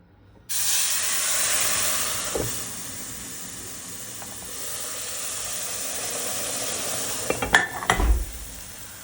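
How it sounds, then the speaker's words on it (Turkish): Syrup poured into a hot pot of flour halva sets off a sudden loud, steady hiss of steam and bubbling that continues for several seconds, ending with a few metallic clanks of a lid or spoon against the pot. "şerbeti dökerken çok aşırı bir buharlanma ve fokurdama olduğu için hemen kapağını kapatacağım"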